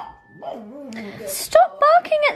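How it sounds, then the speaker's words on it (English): A pug whines and yips at a television indoors, a few short high-pitched barks and whimpers mixed with a person talking nearby. "Stop barking at the television!"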